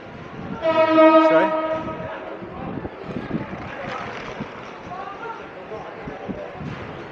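Passenger train in motion as heard from inside a carriage, a loud horn blast near the start followed by rumbling wheels and rattling car noise, with people talking over it.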